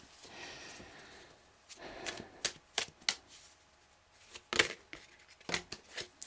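Tarot cards are handled and shuffled close up, producing quiet, scattered riffling and soft slapping clicks in uneven bursts with no talk.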